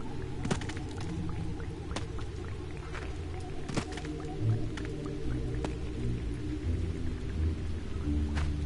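Steady rain hisses in the horror video game Siren, with scattered thunder cracks and low rumbles rolling through at irregular intervals under a dark droning ambience.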